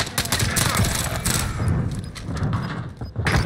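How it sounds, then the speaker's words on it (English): Rapid gunfire in the Call of Duty Black Ops multiplayer match, a dense, loud stream of overlapping shots and bursts lasting throughout with only brief dips. "Oh, I'm taking fire here."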